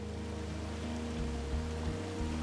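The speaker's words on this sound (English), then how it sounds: "It's a really nice waterfall down here." A waterfall in the video game Firewatch gives a steady, dense rushing wash of water, constant and fairly loud, with a low tonal hum beneath and no talk.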